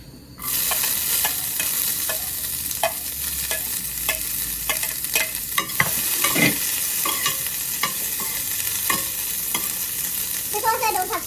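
Onions frying in a pan in a home kitchen, a loud, steady sizzle that starts abruptly and carries on with repeated spatula scrapes and clacks, close up with no voices.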